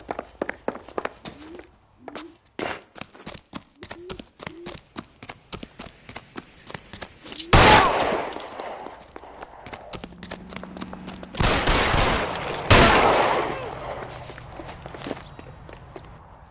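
Gunfire in the video game L.A. Noire: a few loud, sharp bursts ring out among quick footsteps, with one shot standing alone and two more close together later on.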